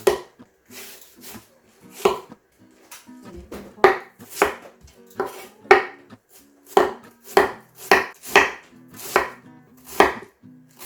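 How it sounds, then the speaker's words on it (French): Knife finely shredding cabbage on a cutting board for Thai chicken noodle soup, a run of crisp, close chopping strokes in an uneven but steady rhythm, mostly alone with faint background. "Je vais émincer le chou"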